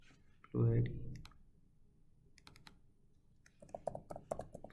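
Code typed on a computer keyboard, clusters of quick light key clicks in short bursts after a brief murmur of voice, close and fairly quiet.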